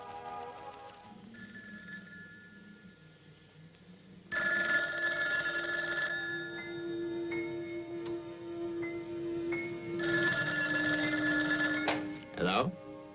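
Landline telephone rings inside a house at night, two loud bursts of electronic ringing separated by a pause, over a low steady hum and faint background voices, ending with a clunk as the receiver is picked up.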